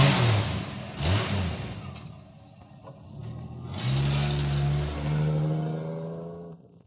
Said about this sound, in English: does this sound like something you've heard before?